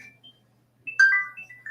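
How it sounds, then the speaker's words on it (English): A mobile phone ringtone going off indoors during a live coding stream, a short melodic electronic chime of a few bright rising notes in a quiet room, moderately loud and close, with no talking over it. "Sorry, I forgot to turn my phone off."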